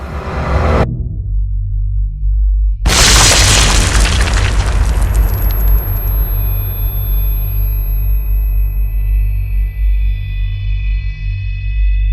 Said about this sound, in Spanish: A la 1:23 de la mañana del sábado 26 de abril estalló el cuarto reactor de la central